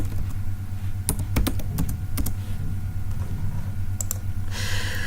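Fingers tap out a new user password on a computer keyboard, a quick irregular run of crisp clicks over a steady low hum, ending in a brief louder clatter.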